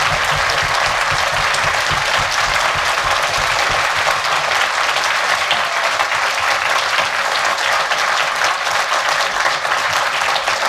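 Sustained applause from a large audience at the closing speech of the Geek Faëries 2017 festival, dense and loud throughout, steady without pause.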